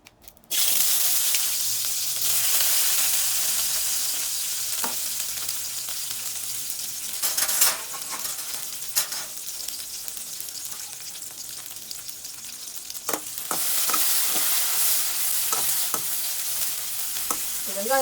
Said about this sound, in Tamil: இது எல்லாத்தையும் தனித்தனியாக வதக்கி எடுத்துக்கணுங்க